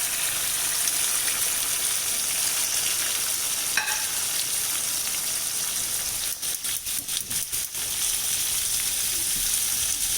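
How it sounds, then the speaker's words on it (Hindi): Onions fry in hot oil in a pan for shahi paneer, a steady close sizzle and crackle throughout, with a few brief stirring scrapes partway through. "ऑयल हमारा गरम हो चुका है, इसको मैंने अच्छे से पका लिया है। अब मैं इसमें प्याज डालूंगी।"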